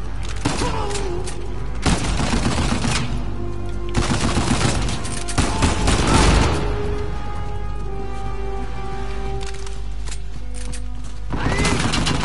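Uncharted 4 gunfire rings out in repeated loud bursts and rattling volleys across a busy firefight, with pauses between clusters of shots and a steady background din.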